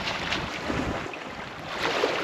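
Strong wind roars steadily across the microphone on Alouette Lake during a paddle, a dense broadband rush with gusts swelling near the start and end and faint water wash beneath, no voices.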